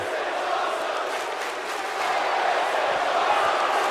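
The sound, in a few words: crowd cheering in WWE 2K17 video game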